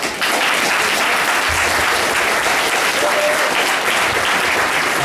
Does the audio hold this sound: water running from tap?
no